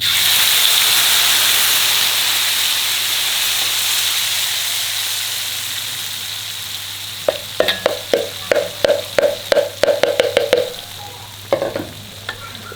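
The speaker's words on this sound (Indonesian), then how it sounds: "udah panas minyaknya, kita tumis bumbunya" Ground spice paste sautés in hot oil for a Padang-style tripe gulai, giving a loud, steady sizzle that gives way to a run of rapid scraping and stirring strokes against the pan, close and unaccompanied by talk.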